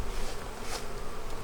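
Honey bees buzz steadily around a hive frame during a late-season colony inspection, a dense close insect drone that swells briefly as bees pass near.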